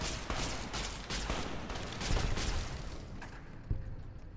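Gunfire from the player's weapon in Fallout: New Vegas, a dense run of layered shots and impacts mixed with game effects, with one sharper report near the end.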